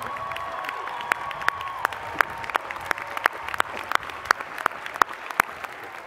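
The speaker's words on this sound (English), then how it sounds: "Graduates, please join me in giving them a big round of applause." A graduation audience at a Cal Poly spring commencement claps for faculty and staff, a steady sheet of applause with sharp individual claps cracking through, filling the hall throughout with no talk.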